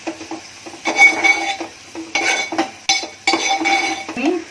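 Tamarind goes into a pan while bombil fish cooks, with repeated bursts of stirring and metal scraping against the pan over a light sizzle, loud and close with no talk.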